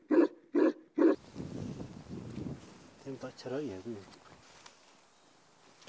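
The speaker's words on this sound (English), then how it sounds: "This is a Tibetan Mastiff raising family." Three loud, deep barks from a Tibetan Mastiff at a breeding family's place open the clip, followed by a person talking and some wind noise.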